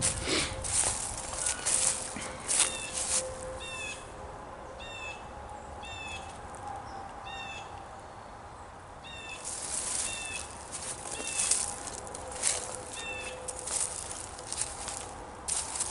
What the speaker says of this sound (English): just wanted you to hear that bird